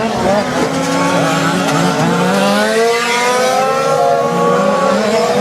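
1/5 scale RC Mini Cooper race cars at a French championship final on a track, high whining engines revving and sweeping in pitch, tires squealing, loud and continuous under commentators talking.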